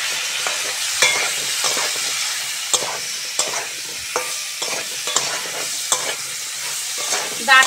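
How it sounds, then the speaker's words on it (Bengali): Moringa drumsticks and green mango fry with spices in a tempering of hot oil, a steady close sizzle broken by repeated scrapes and clicks of a stirring spoon throughout. "ডাঁটা আর আমটা ভালো করে ফোড়নের সঙ্গে ভেজে নেব"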